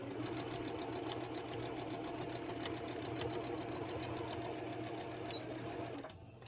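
A sewing machine stitches vintage quilt blocks in a fast, steady mechanical chatter that runs loud and close for about six seconds, then stops abruptly.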